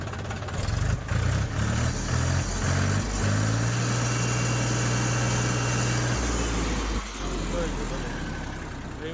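A Mahindra B 275 tractor engine idles with a low, steady throb and rising and falling hum, close by, while someone talks over it.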